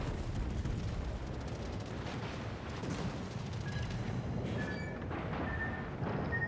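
Naval secondary guns fire in a World of Warships battle, a dense, continuous rumble of overlapping booms and blasts with a few faint high tones late on, no talk.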